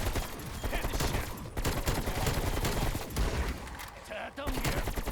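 Video game gunfire crackles in dense, rapid bursts and volleys, a continuous busy battle din at moderate level, with voice lines mixed in.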